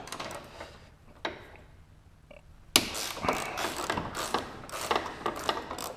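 A ratchet works loose the hood bolts on a Subaru BRZ, Scion FR-S or Toyota 86 during engine removal, a few isolated clicks and then a rapid run of close metallic ratcheting.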